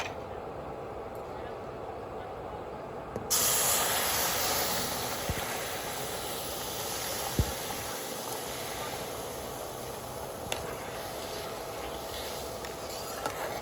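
Milk is poured into hot, freshly roasted semolina in a pan while making semolina rasgulla. A steady close hiss jumps sharply louder a few seconds in and keeps sizzling with little change.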